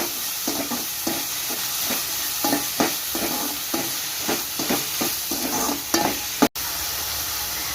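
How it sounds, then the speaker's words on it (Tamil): Onion, garlic and tomato sautéing in a pan for a tamarind curry, with a loud steady sizzle and regular rhythmic stirring strokes throughout, close up. "தக்காளி வெங்காயம் நல்லா பொன்னிறமாக நல்லா வதங்கணும்"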